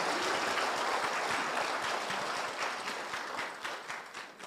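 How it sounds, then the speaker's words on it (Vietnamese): A large audience at a Buddhist memorial ceremony at a monastery in California breaks into loud, sustained applause, a dense rush of clapping that fades slightly toward the end, with no voices over it. "Xin quý vị cho một tràng pháo tay thật lớn."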